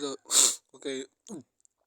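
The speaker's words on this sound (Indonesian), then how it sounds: "Bersin maaf." A single sharp human sneeze bursts out close to the mic amid short breathy vocal sounds and gasps, with brief speech fragments before and after.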